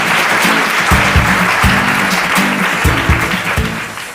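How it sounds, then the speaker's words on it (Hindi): Studio audience applause on a televised quiz show, a dense, steady wash of clapping filling the whole stretch, with low musical tones or stings pulsing underneath. "जोरदार तालियां हमें उनके लिए।"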